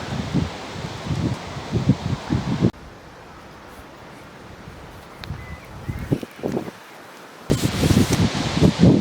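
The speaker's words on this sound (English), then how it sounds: "Wind's an absolute nightmare." Wind gusts buffet the microphone at an outdoor fishing water during paste fishing for carp, a loud rumbling roar for the first few seconds, easing to a softer steady hiss, then surging strongly again near the end.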